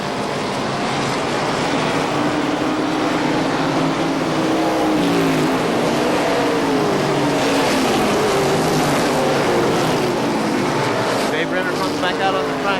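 ARCA SuperCars race at KilKare Speedway, loud engine roar with passing pitch sweeps as cars go by, continuous throughout, with a commentator talking over it.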